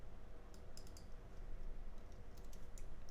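Rapid clicking of computer keyboard keys while typing Python code, small irregular taps over a steady low hum, close and moderately quiet.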